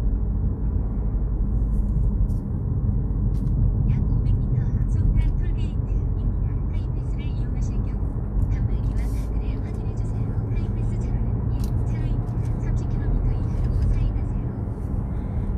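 A car cruises on the Pyeongtaek–Jecheon expressway in Korea, heading out from the Songtan interchange. Steady, close road and engine drone fills the cabin, with faint high ticks scattered above it.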